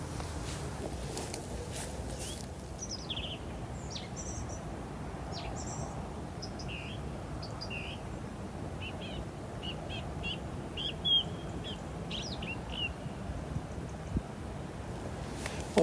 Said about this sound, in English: I think it is a blackbird